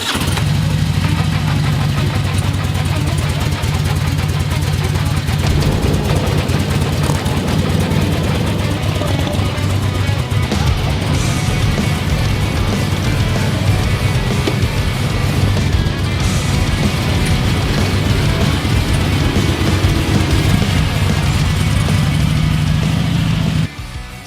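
A motorcycle engine runs steadily with a deep low rumble and a few revs at a kids' charity motorcycle ride, loud and close for the whole stretch, with crowd noise faintly in the background.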